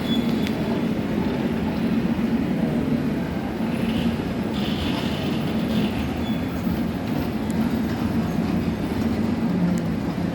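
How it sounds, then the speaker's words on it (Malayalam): A toy train ride inside Lulu Mall makes a continuous rolling rumble with faint rhythmic wheel clatter and occasional light squeals, loud and close throughout. "ഇവിടെ ട്രെയിനിൻ്റെ ടോയ് ട്രെയിനിൽ കയറി വെച്ചു."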